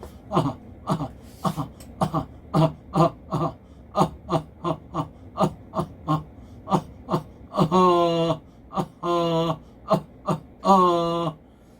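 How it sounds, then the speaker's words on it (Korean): A series of short, light deliberate coughs in a steady rhythm as a voice exercise for vocal cord paralysis, close and clear, followed by a few longer voiced bursts near the end. "가볍게 가볍게 기침하는 느낌을 써보는 겁니다."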